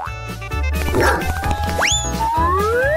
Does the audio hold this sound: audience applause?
no